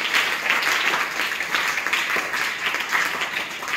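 Children in an online class applauding together, a dense, continuous burst of clapping that holds steady at full loudness to the end.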